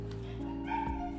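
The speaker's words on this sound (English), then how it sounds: "His bark got deep." A dog yips and whimpers in short bursts with a few deeper woofs over a steady low hum, fairly close and moderate in level, with no talking.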